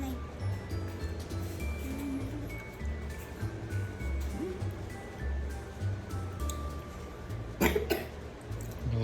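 A single short cough from a person panning for gold outdoors, heard close near the end over a quiet, steady low rumble of background noise.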